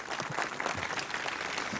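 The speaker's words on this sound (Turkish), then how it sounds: "orkestra arkadaşlarına bir alkış alabilir miyim?" A concert audience applauds the orchestra, a brief, dense burst of clapping at full strength throughout, with no voices over it.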